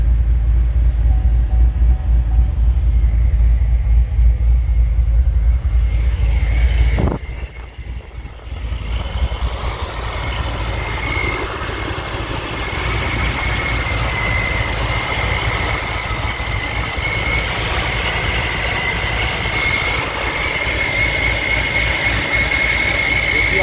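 A powerful supercharged 2016 Corvette Z06 engine rumbles steadily at idle, loud and close, with a brief dip before settling into a constant throaty drone.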